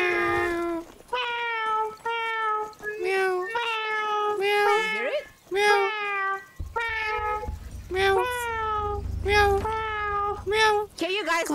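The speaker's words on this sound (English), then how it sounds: "Because I hear the cat, but I don't see the cat." Repeated meows, drawn-out and rising and falling, one after another for several seconds with only short pauses, fairly loud and near.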